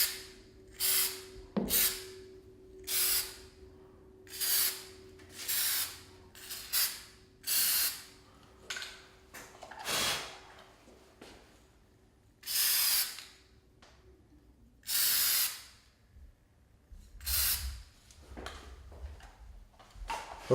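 Repeated bursts of spray from a paint sprayer applying coating over a drywall joint during interior painting, about a dozen short hissing passes with brief pauses between them, close and fairly loud.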